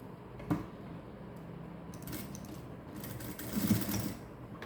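A sewing machine joins a blouse shoulder seam, running quietly in brief spurts with a soft knock near the start and a slightly louder burst toward the end.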